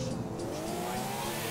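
A car driven in Grand Theft Auto 4, with a steady, humming engine drone and faint tire noise, sustained and fairly close with no talk over it.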